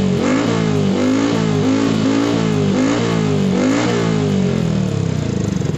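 Motorcycle fitted with an aftermarket Akrapovic WSBK-style exhaust with the dB killer closed, revved hard and continuously with rising and falling pitch, loud and close with no talking.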